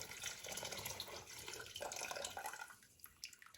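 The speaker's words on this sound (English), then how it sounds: "You just tip it to the side, yeah, to get all the water out." Water is tipped out of glass canning jars during home canning, a faint, brief pouring and splashing trickle that tapers off toward the end.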